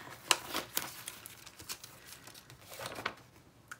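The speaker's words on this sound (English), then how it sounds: "let's pull these off and stick them on the wax paper" Stickers are peeled off a backing sheet and pressed onto wax paper, making soft close crinkles and sharp ripping peels in a few quick bursts in a quiet room.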